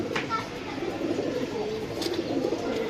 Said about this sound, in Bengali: আমরা অনেক সময় দেখি আমাদের কবুতর কেক কেক একটা আওয়াজ করে